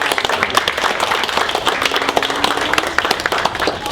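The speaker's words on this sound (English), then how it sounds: "Give them a round of applause." An audience of parents applauds first-grade children after a school music performance; dense, steady clapping fills the room at moderate volume, with a few voices mixed in.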